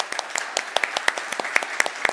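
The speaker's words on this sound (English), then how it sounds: "They all deserve your round of applause." An audience claps for the panelists at a conference on an innovation and technology stage: dense, steady applause of many hands with crisp individual claps standing out, lasting about two seconds.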